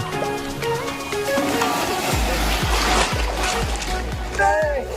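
Waves crash and splash repeatedly in quick succession at high tide on a sandy char beach, loud and close, with people's voices and shouts mixed in around the surf.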